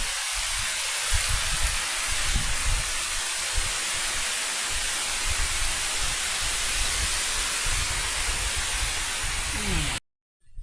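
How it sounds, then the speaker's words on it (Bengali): Heavy rain pours down by a river during fishing, a dense, loud, steady hiss with low rumbling underneath, cutting off abruptly near the end. "প্রচন্ড বৃষ্টি হচ্ছে"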